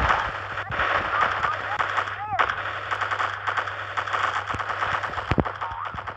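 Rapid gunfire in the video game MilkChoco, quick automatic bursts and single shots crackling over a steady game soundtrack, with a voice talking over part of it.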